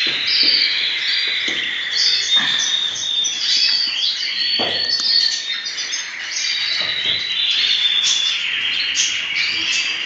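Dense, high chirping and twittering from many prize-winning North Frill canaries overlaps continuously, a busy chorus close by with occasional sharp clicks and thumps.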